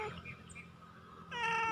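A hungry stray cat lets out a clear, close meow near the end, preceded by quieter background noise.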